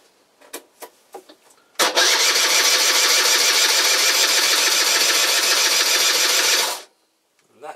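A Peugeot Speedfight moped engine cranks after a few faint knocks, then catches and runs at a steady, loud, buzzing rattle for about five seconds before cutting out abruptly, all close up with no talking.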